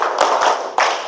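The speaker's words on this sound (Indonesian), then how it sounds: "Oke, tepuk tangan dulu." A fifth-grade class of pupils claps hands together in a short burst, with a few sharp, close claps forming an uneven rhythm and faint voices underneath.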